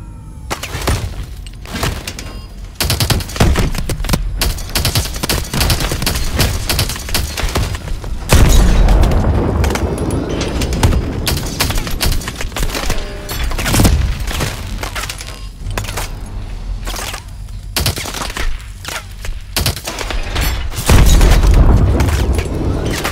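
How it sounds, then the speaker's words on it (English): Missile explosions in Call of Duty: Advanced Warfare, a series of loud, deep booms and crackling blasts with debris clatter in dense bursts, rising and falling amid battle noise. "Use missiles against infantry. Switch to missiles."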